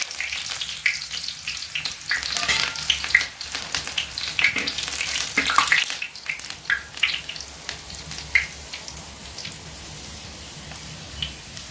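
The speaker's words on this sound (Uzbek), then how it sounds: "yog' mana qizigandan keyin, tutun chiqqandan keyin achchiq taqir ta'mini ketkazish maqsadida ozgina piyoz tashlab olamiz" Onion pieces dropped into smoking-hot oil for Uzbek plov, sizzling and crackling loudly and continuously at close range, a dense rain-like frying hiss that eases slightly toward the end.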